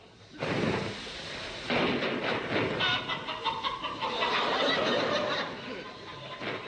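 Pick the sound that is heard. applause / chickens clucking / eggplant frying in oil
chickens clucking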